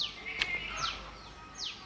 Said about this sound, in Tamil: அழகான பறவை